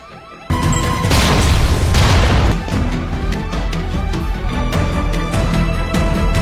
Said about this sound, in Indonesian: Untuk kabur dari lokasi ini, mereka ledakan dindingnya.